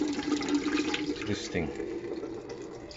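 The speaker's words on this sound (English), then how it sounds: "I'm adding 2 liters of water" Two liters of water pour into a pressure canner, a steady splashing fill running under a person talking throughout.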